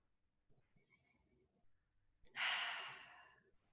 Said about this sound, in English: let's all just take a breath right now